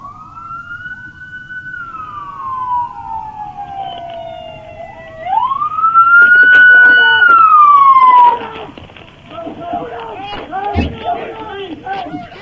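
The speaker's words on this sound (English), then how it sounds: "You can clearly hear those sirens" A loud police siren wails and sweeps up and down in pitch, joined by a second siren tone, with muffled voices and scuffling from a struggle between an officer and a suspect underneath.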